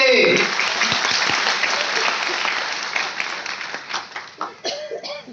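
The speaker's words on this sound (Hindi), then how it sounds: "जोरदार ताली श्रीकांत जी, जोरदार ताली।" Loud applause for an emerald-level achiever: a dense burst of many hands clapping from the crowd that fades gradually, with a few coughs and scattered claps near the end.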